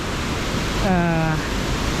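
Water from a waterfall fed through a tunnel, pouring as a steady, loud broadband rush that fills the whole clip, with a brief tonal whine partway through.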